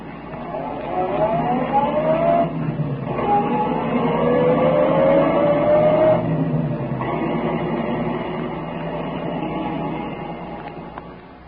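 A detective's car drives along, a steady engine drone with rising gear-change whines and a constant low road rumble, fairly loud and continuous, easing off toward the end.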